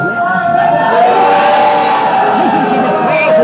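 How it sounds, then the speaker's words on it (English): A big crowd at a professional wrestling event roars and cheers continuously, a steady wash of voices with occasional whoops rising above it. "Listen to the crowd."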